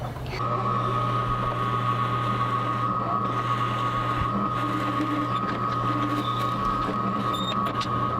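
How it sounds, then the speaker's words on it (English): A power drill boring into a small wooden fish-shaped pencil holder, a steady high motor whine that runs unbroken and loud for several seconds with no talk. "Now should we drill it?"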